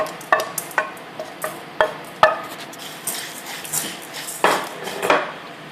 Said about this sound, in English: Here I am dry roasting the daals, the channa daal, the Bengal gram, and the udith daal,